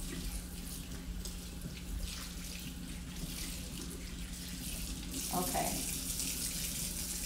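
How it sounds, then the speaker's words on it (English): Lukewarm water runs from a sink tap while dyed hair is gently rinsed through. There is a steady close hiss of flowing water throughout, a brief splash, and a short spoken word. "So I'm just gonna take this to the sink. Some lukewarm water, of course, but gently rinse it through."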